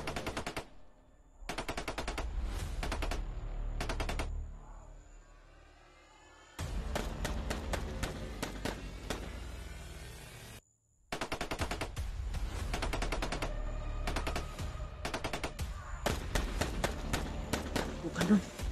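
A shootout with loud, rapid bursts of automatic gunfire broken by short pauses, while people talk over and between the volleys.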